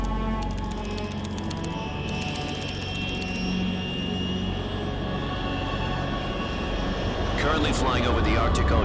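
Steady jet aircraft drone from the video game Metal Gear Solid 3, a plane flying at altitude over the Arctic Ocean, roaring continuously with a rising swell near the end.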